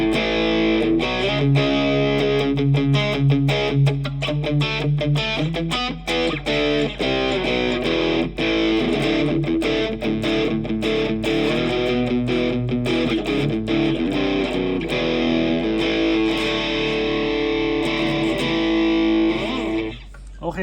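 A heavily distorted electric guitar plays chords and riffs through a Cube Baby effects pedal with cab simulation, loud and sustained for about twenty seconds before stopping.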